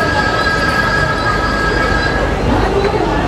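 The Garib Rath Express rolls out of Dadar station in Mumbai with a loud, close rumble of wheels on track and a sustained high squeal, steady for a few seconds.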